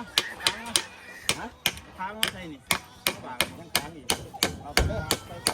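Hammer blows driving nails into a bamboo bridge being built over water, a steady series of sharp, close strikes roughly every half second, with someone talking between and under them.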